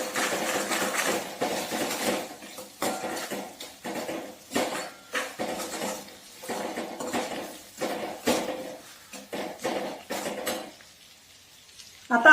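Tomato chutney ingredients sautéed in a pan and stirred steadily, a spoon clattering and scraping against metal in quick irregular bursts over a soft sizzle, close by, before the sound briefly drops away.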